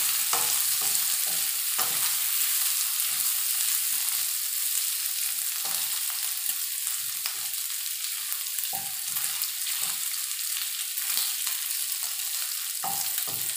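Beef and vegetables fry in hot oil with a loud, constant hiss, broken by the soft scrapes and thumps of repeated stirring.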